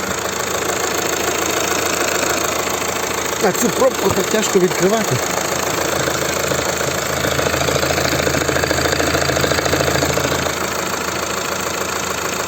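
A 2012 Fiat Freemont 2.0 Multijet 170 hp diesel engine idles steadily with a low rumble close by while someone speaks briefly over it.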